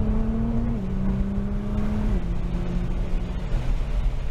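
Nissan GT-R engine on a race track track day, a steady loud drone with clear harmonic tones that step down as the throttle lifts and shifts, continuous and close throughout.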